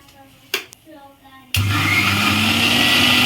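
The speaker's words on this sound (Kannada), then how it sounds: "ಇವಾಗ ನಮ್ಮಮ್ಮ ಗ್ರೈಂಡ್ ಮಾಡ್ಕೋತಾರೆ. ಇಲ್ಲಿದೆ ನೋಡಿ ನಮ್ಮ ಮಿಕ್ಸಿ" A small mixie grinder blends leafy greens into paste at home. After a short faint clatter it starts up loud and close, holding a steady high whirring roar to the end.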